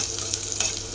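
Chopped onion fries in hot oil in a pan with a steady, bright sizzle. Two soft stirring scrapes come through during the short burst, and no one speaks.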